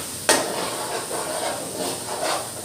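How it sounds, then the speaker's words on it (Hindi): Masala for aloo matar frying in a pan, a steady close sizzle with soft stirring scrapes and a sharp clink near the start, no voices. "भून लिया सालन मसाला, ये देखो मसाला भी भून कर।"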